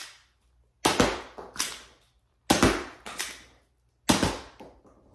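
Five sharp pops from a Triad emergency pistol firing darts: two quick shots, a pause, a single shot, then two more after a reload gap, each loud and close with a short ringing decay and no talk.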